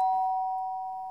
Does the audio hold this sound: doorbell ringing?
yes